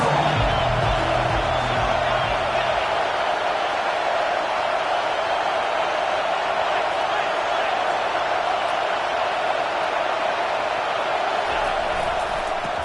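Dense, steady roar of a football stadium crowd trying to rattle the offense, holding constant and loud for the whole stretch with no break.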